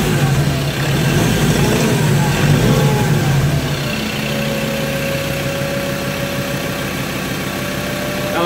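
Car engine in a workshop, likely a Mitsubishi Triton or Toyota Corolla during servicing, running loud and close with a raised rev for the first few seconds before settling to a steady idle hum.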